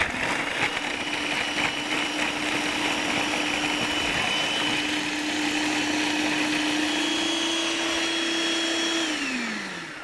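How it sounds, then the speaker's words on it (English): A food processor blends cashews for lentil burgers, a loud, steady motor whir that holds one pitch for about nine seconds and then winds down near the end, with no talking. "keep this blending for like a whole minute or two, because we really wanna break down those cashews"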